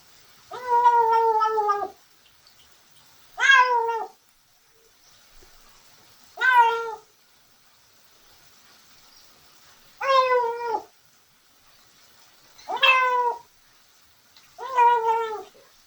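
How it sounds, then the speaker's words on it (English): A cat makes odd, drawn-out meow-like cries while eating, six separate calls spaced a few seconds apart with quiet gaps between, close to the microphone. "he just makes weird noises when he's eating sometimes"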